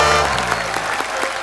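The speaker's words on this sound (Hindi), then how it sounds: "तालियां हो जाएं" Studio audience applause on The Kapil Sharma Show during a Sony TV anniversary celebration, a brief burst of steady, fairly loud crowd clapping with individual claps popping through.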